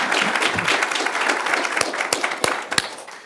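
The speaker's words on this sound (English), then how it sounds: "I'm applauding because this was an incredibly informative morning." Audience applause at the close of a morning session on prostate and testicular cancer, loud, dense and steady clapping with a few sharper claps near the end.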